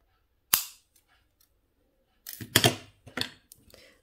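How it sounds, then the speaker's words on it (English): A single sharp, crisp snip of wire cutters trimming jewelry wire short on a wire-wrapped bead pendant, close and isolated, followed by a few softer clicks and handling sounds. "So the inner wire, the one that's closer to the bead on both sides, cut it very short."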